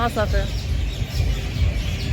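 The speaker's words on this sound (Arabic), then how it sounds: "العصافير تزقزق" Small birds chirp in a busy park, a few quick high tweets near the start, then a steady low rumble of wind and crowd noise.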